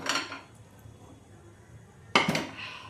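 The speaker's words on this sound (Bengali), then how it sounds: "তাওয়াটা নিচে আছে, তার উপরে কড়াইটাকে রেখে দিলাম।" A metal wok is set down on a griddle pan on the stove: a soft clatter opens, then a single sharp, close metallic clank rings out near the end over quiet kitchen background.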